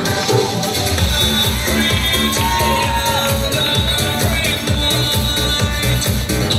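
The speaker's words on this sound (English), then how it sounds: "Please give a big round of applause for our Amateur Physique Novice" A loud, close crowd cheers and shouts nonstop at a men's physique novice bodybuilding contest, whoops and voices rising over a dense, steady roar.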